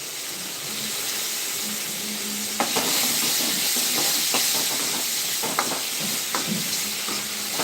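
Loud, steady sizzling of sliced vegetables sautéing in a pan, with occasional spatula scrapes and clinks over the continuous hiss.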